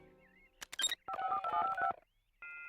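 A cell phone being dialed gives a quick run of electronic key beeps and dial tones, short bursts with gaps between them, ending on a sustained tone, crisp and close.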